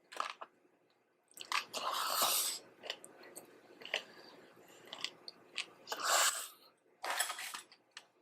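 Close, wet biting and chewing of saucy Korean spicy squid, with crunchy bites and squishy mastication coming in bursts separated by short pauses.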